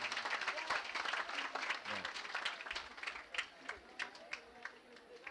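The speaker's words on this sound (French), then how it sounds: "On applaudit pour les professeurs." An audience at a high school in Banfora applauds steadily, many hands clapping together in a dense patter that thins out toward the end, with murmured voices underneath.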